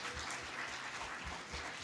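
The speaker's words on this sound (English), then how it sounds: "Another round of applause, please, for our first presenter." Faint, distant applause from a convention audience for a presenter, a soft continuous wash of clapping with no voices.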